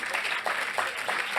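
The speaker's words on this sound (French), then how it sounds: "je crois qu'on peut l'applaudir bien fort." An audience at an evening presentation claps for a woman, a brief dense burst of applause with a few sharper accents, fairly close and moderately loud.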